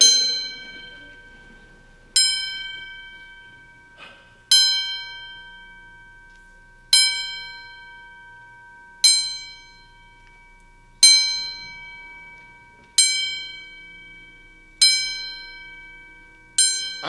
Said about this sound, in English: Listen, the bells for St. Timothy's.